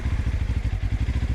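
A QJMOTOR SRT 450 RX motorcycle, a 2026 oversquare 450 cc single, chugs at very low revs with a steady, lumpy thumping pulse, close and loud, with no talk over it.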